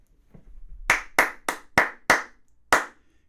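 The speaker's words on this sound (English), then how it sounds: "So I'm going to clap the rhythm of this fish." Six sharp hand claps ring out in an uneven rhythm, close and clear, after a brief quiet start with a few soft sounds.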